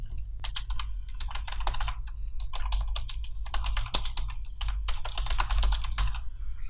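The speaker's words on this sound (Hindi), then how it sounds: "सो इधर मैं टाइप करता हूँ प्रॉम्प्ट" Prompt typed on a computer keyboard: rapid, close, clicky keystrokes in irregular bursts with brief pauses, over a low steady hum, no talk.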